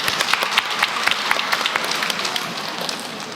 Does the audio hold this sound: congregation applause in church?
yes